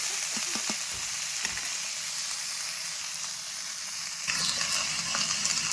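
Fish fries in hot oil with a continuous close crackling sizzle, a few scraping stirs near the start, and the hiss swelling louder toward the end, with no one talking.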